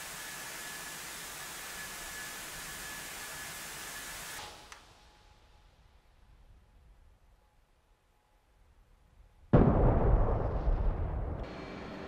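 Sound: Walleye II guided bomb hitting target in DCS video game

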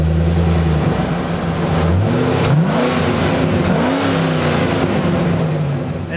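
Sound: V8 engine of a Hummer off-roader revving

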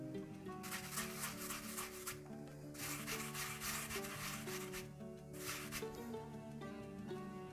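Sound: rubbing TikTok depilatory gum hard on skin in circles

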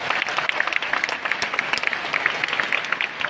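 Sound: audience applause at Nick Vujicic talk

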